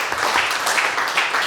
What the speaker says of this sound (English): Clapping already.